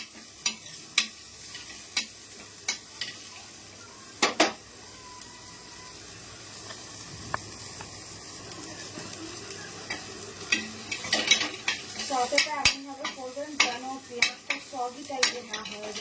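Bread frying in a pan for a quick breakfast sandwich gives a soft, steady sizzle, broken by sharp clinks and scrapes of a utensil against the pan, with a voice talking faintly in places.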